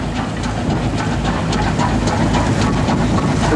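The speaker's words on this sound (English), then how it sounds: "The train there just leaving it and making its way over is the Kinlet Hall." The Kinlet Hall train pulls away and passes, a loud, close rumble with rhythmic clickety-clack of wheels and hissing running through the whole stretch.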